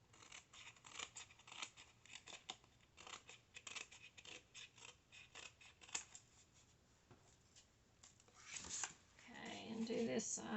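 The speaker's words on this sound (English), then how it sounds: "I'm just going to take my scissors and trim this off." Close, quiet snipping of scissors cutting paper, a rapid series of small crisp cuts with some rustling of paper, fairly faint.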